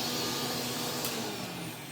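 A vintage Hoover 427 cylinder vacuum cleaner runs close by with a steady, loud motor roar and rushing airflow for about two seconds, slowly easing slightly toward the end, with no talking.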